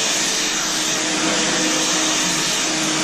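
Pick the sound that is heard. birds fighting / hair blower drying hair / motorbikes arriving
hair blower drying hair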